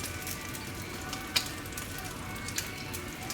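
Steak frying in a hot pan with a pat of butter on top, a continuous close sizzle and crackle with a couple of brief sharper pops.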